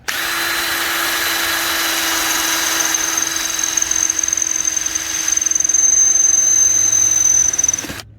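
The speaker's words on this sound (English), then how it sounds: "when you drill holes through something, they never line up" A power drill bores holes through an outboard motor while converting a tiller handle to console controls on a small boat, a loud, steady whine sustained for several seconds that rises in pitch midway before cutting off.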